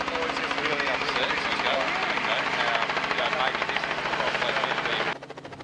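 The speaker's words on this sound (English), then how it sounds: "Those choppers are dangerous." A helicopter flies overhead at a remote site, its steady rotor chop and engine drone filling the air for about five seconds before dropping away sharply near the end.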